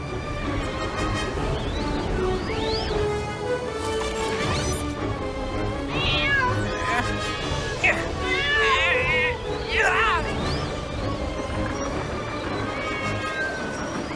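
A cartoon cat meows and wails several times over busy music and sound effects, with crashes and thwacks in a lively animated scene.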